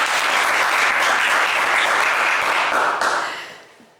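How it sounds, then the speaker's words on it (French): Loud, dense studio audience applause on a French TV quiz game show, sustained evenly for about three seconds before fading out quickly at the end. "On vous applaudit très fort."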